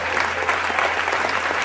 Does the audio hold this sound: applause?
yes